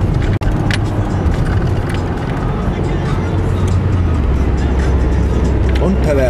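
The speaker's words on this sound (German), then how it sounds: "Mal kurz mal ein bisschen Gas geben so." A car engine pulls hard as the driver accelerates on a city street, a steady loud low drone rising and holding for several seconds under continuous road noise, with a sharp brief knock near the start.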